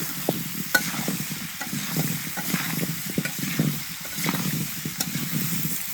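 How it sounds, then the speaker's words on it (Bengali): Potato pieces coated in turmeric fry in oil while being stirred, a continuous sizzle broken by repeated spatula scrapes and soft knocks, close and moderately loud. "এবার হচ্ছে আলুটা আর কিছুক্ষণ ভেজে উঠিয়ে নেবো"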